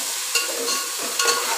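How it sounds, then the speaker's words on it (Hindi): Spices being dry-roasted and stirred in a pan for pulao, with a soft scraping stir and light sizzle running steadily, two brief louder scrapes of the spoon, no talking. "सारे मसालों को जो ना अच्छी तरह से भूने"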